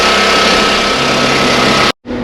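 A John Deere tractor engine runs at a loud, steady idle close by, a continuous low rumble that cuts out abruptly for a moment near the end before resuming.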